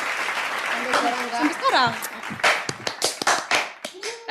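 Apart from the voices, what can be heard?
audience clapping hands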